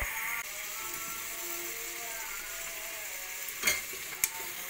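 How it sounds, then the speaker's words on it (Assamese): Small potatoes tossed with whole spices in a pot for a chicken dish cooked in a pressure cooker, giving a steady close sizzle with a light scrape of the spoon and a couple of sharp knocks near the end. "এতিয়া এতিয়া লৰাই দিম ধুনীয়াকৈ আলু সৰু সৰু আলু"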